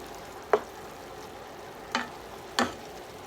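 Brussels sprouts cooking with onion in a pan, a soft steady sizzle with a few sharp stirring clacks spaced apart.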